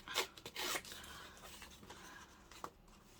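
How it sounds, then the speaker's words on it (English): Paper is torn by hand for ephemera crafting with a Stamperia Forest Winter Woods collection, a few quiet ripping strokes near the start followed by faint rustling. "I'm going to tear down that, tear down here"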